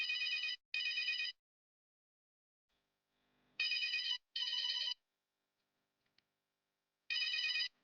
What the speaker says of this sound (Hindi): मैं नंदना को कॉल करता हूँ।